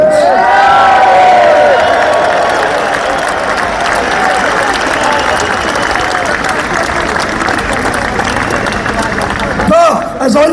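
A large outdoor rally crowd in London cheers and applauds loudly for Northern Ireland, a dense, sustained roar of claps and shouts that carries steadily, dipping briefly near the end.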